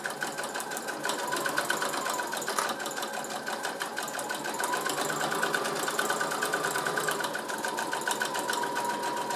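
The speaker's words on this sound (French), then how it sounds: "Lorsque j'arrive dans mon angle, je plante mon aiguille, je lève le pied et je repars pour ma couture." Sewing machine stitching a fabric glasses case, running as a steady, continuous motor whir with a rapid needle chatter throughout, close and alone with no talking.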